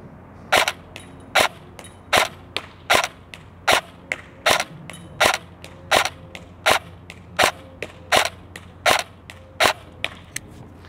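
An EMG Daniel Defense M4A1 airsoft electric rifle running on an 11.1 volt LiPo battery fires about thirteen crisp, evenly spaced single shots in a steady rhythm, close and loud, with no talking.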